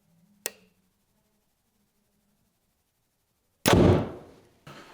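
An arrow is loosed from a Hoyt bow through paper during tuning: a sharp snap near the start, a pause of quiet, then a heavy thwack with a fading rush and a second short thump close by.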